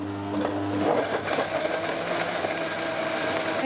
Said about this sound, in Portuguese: E agora eu bato esses ingredientes, né? Até ficar bem clarinho.